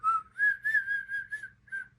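A person whistles a short wavering tune of several breathy notes in separate bursts. It is close and fairly soft, with no talk.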